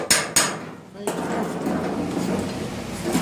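Two sharp hammer blows strike the sheet metal of a 1955 shop truck cab damaged by a cab fire, followed by quieter clattering and shop noise.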